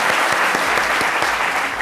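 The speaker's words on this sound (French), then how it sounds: "envoyez-leur des applaudissements, bravo" Dense, loud applause from an audience at a French public meeting, a continuous wash of many hands clapping at once with no voices.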